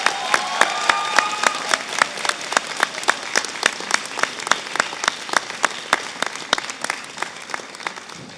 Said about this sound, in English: What I notice is many friends and family clapping themselves